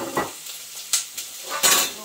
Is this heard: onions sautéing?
yes